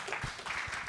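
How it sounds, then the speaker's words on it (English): Conference audience applauding during a session, a short burst of scattered clapping that stays faint and sounds as if it comes from across the room. "Give yourselves an applause."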